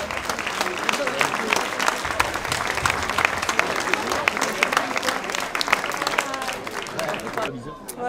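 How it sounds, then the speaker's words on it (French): An audience at an athletics awards night applauds steadily, a dense wash of clapping lasting several seconds with voices mixed in, tapering near the end. "On peut les applaudir"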